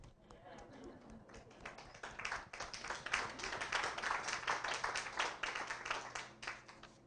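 Scattered clapping from a small audience at a literary reading, starting sparse and building into a fuller round of quick, close claps, quiet overall, with speech mixed in.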